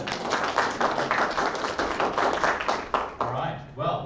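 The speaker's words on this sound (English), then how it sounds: "Give them a round of applause." Church congregation applause during a Sunday service at St John's Anglican Church, a fairly close, moderate burst of mixed clapping that thins out toward the end as voices come in.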